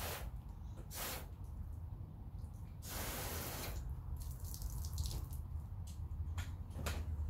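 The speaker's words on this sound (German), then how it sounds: "Perlen bilden sich und tropfen einwandfrei runter." Water sprayed onto a freshly waxed car hood beads up and runs off, heard as quiet hissing spray bursts and patters, alone with no talking.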